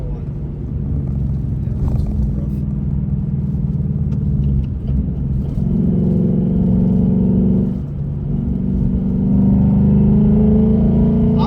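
Car driving in sport mode with traction control on, along a snowy road in Mexico, producing a steady loud engine and road rumble from inside the cabin that rises and shifts as it accelerates.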